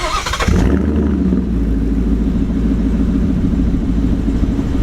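A 2016 Ford Mustang GT Performance Pack's 5.0-liter V8 cranks and fires up, then settles into a loud, deep, rumbling idle that holds steady.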